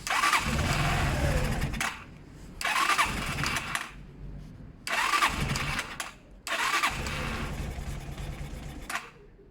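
A Zontes motorcycle engine fires up and revs in four loud bursts, each cutting off sharply to quiet gaps before the next; the idle runs low.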